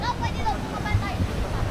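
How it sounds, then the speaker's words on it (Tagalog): Strong ocean surf crashing at a northern Philippine surfing beach, a continuous roaring wash of breaking waves with wind buffeting the microphone. "Ang lakas ng alon."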